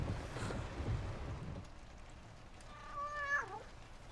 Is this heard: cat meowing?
yes